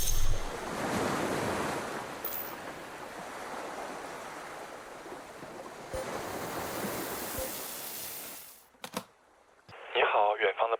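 Ocean waves at the sea, a broad rushing surf with wind buffeting the microphone for most of the stretch, then fading out before brief clicks and other noises near the end.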